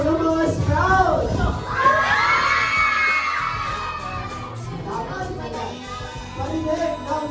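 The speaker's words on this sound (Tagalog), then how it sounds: "Parinig naman ng sigaw ng mga Scouts!" A crowd of children at a vacation Bible school event shouts together in a loud, sustained group yell, rising to a peak midway and then tapering into mixed voices and chatter.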